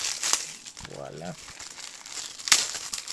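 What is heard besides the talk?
unwrapping plastic film from a Blu-ray case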